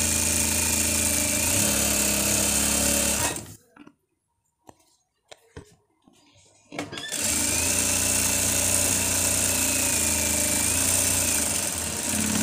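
A sewing machine stitches both sides of a shirt cuff in two long, steady whirring runs close by, with a break of near silence and a few soft clicks between them.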